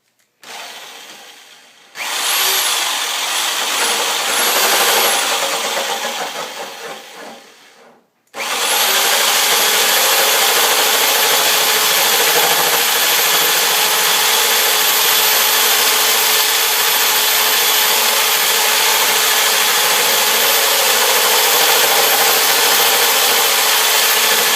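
Electric drill running at 800 RPM, line boring a tractor axle: a short burst, a pause, then a loud, steady high whine with a grinding metallic edge as the cutter works through the bore.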